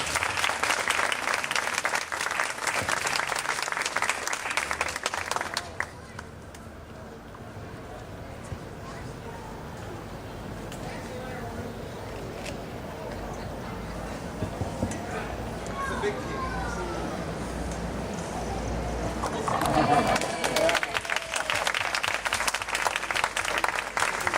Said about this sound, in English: How about another round of applause for Grace?